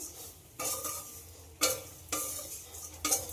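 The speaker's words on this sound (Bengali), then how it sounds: "এই সময় গ্যাসটা লোয়ে রেখে একটু ভেজে নিতে হবে সব কিছু" Coriander and cumin powder frying on low gas in a pan, a soft sizzle broken by four distinct bursts of stirring scrapes spaced about a second apart, close and quiet with no talking.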